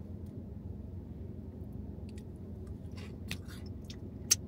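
Churro fries dipped in chocolate sauce are chewed close by, with soft wet bites and a few sharper crunchy clicks over a low background rumble.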